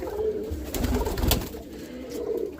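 Roller pigeons coo softly and continuously nearby, low rolling calls overlapping, with some rustling and flutter in the background.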